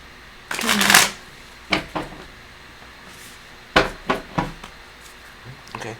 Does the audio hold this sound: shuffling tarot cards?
yes